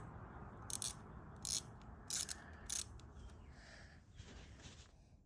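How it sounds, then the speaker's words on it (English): Ratchet clicks as a universal joint on a long extension turns a fitting on a car's radiator hose setup: four short, crisp bursts of ratcheting in an even rhythm, close by, followed by quieter rustling. "you could probably get it around back here with a short ratchet, but I'm opting to use a universal on a nice long extension"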